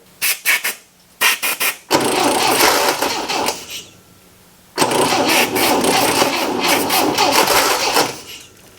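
A 1970s-era MGB sports car that has been sitting for about ten years, with its engine cranking loudly on the starter: a few short bursts, then two long sustained cranking runs separated by a brief gap, close up.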